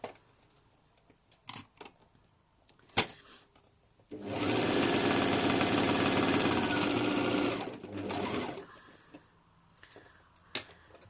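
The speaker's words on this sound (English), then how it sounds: "So all we're going to do is just sew along the shoulder seams." A sewing machine runs steadily for about four seconds, stitching the shoulder seams of an armband-style bralette, with a few small handling clicks before and after.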